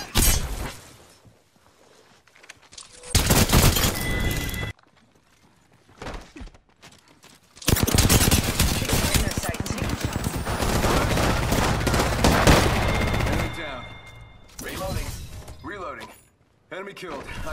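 Loud bursts of gunfire from the video game Apex Legends, with a short volley early on, then a long sustained stretch of rapid shots and impacts that trails off, with quieter gaps and game effects between.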